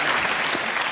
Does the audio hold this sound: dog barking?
no